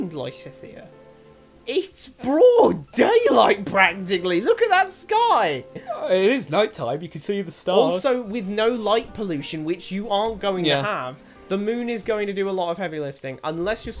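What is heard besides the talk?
None of the usual background noises is heard.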